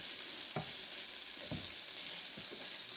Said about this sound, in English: Don't forget you have to kind of break up this pork when you cook it.